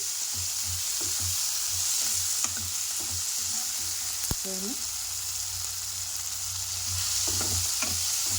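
Tomato and onion fry in a pan for a lotus seed masala curry, giving a steady sizzle with occasional stirring scrapes and clinks throughout.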